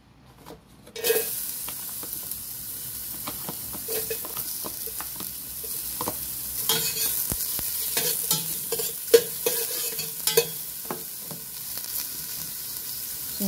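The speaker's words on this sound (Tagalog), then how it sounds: "Uunahin natin gisa ang luya." Ginger sautéing in ordinary cooking oil in a pan while preparing arroz caldo, a continuous soft sizzle broken by scraping stirs and occasional pan knocks, close and steady with no talk.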